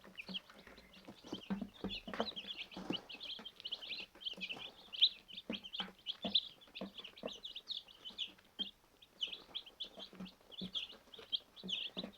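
A crowd of young chicks peeps and chirps nonstop, many thin high calls overlapping at close range at a moderate level, with no voices.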